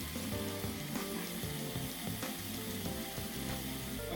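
Ground minced beef sizzling in a hot pan with onions and carrots for a Bolognese sauce, a loud, continuous crackling fry with soft scraping and stirring sounds running throughout.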